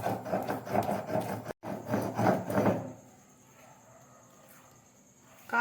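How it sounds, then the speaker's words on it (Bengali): Cashew, poppy seed, mustard seed and green chili are ground into paste on a stone slab, giving close, rhythmic rasping rubs for about three seconds with one short break, after which it falls quiet. "এই পুরো মশলাটা আমি এখন বেটে নিচ্ছি।"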